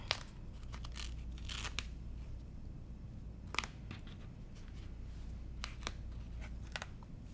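Sticky tape is torn in several short, sharp rips, scattered and quiet, while finishing a cross stitch ornament.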